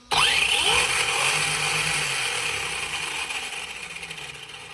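An ARRMA Senton 2WD RC car's brushless motor spins up sharply at full throttle in reverse, giving a loud, rising electric whine that holds as a sustained high-pitched drone and slowly fades.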